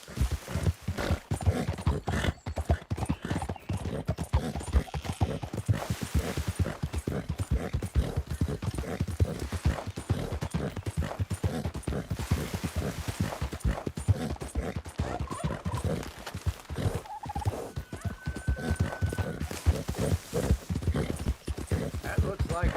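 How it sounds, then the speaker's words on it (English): Horse hooves clip-clop steadily and close in Red Dead Redemption 2, a fast, expensive horse trotting in a continuous rhythm while people talk over it. "That looks like a pretty nice horse you got there."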